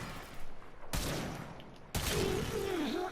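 Kuva Chakkhurr firing in the video game Warframe, heavy booming shots in a few bursts with abrupt onsets, loud and close, plus a whining tone late in the clip.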